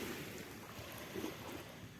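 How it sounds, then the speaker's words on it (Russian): Soft, steady wash of sea waves rolling onto the shore, a faint continuous surf hiss with gentle swells, heard from a bench by the water. "Так умиротворенно волна на берег набегает."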